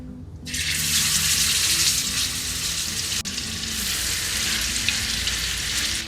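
Food hits a hot pan and fries with a loud, steady broadband sizzle that starts abruptly and keeps going throughout, close up and with no talking.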